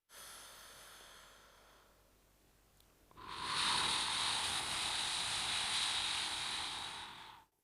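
Slow, deep breathing during a bedtime stretching routine: a quiet exhale, then a long, loud, airy inhale lasting several seconds, close to the mic, with no talk.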